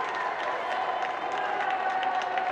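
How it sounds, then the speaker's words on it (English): A dense, steady roar of crowd cheering and applause fills a wheelchair tennis gold medal match in the men's doubles at the Tokyo Paralympics, with fans from France urging on their player Peifer as he serves. The noise stays loud and continuous throughout. "And those cheers are getting ever louder."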